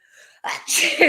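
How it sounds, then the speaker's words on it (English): A single sharp human sneeze bursts out close to the microphone after a brief quiet intake, loud and abrupt. "sorry, I had to sneeze."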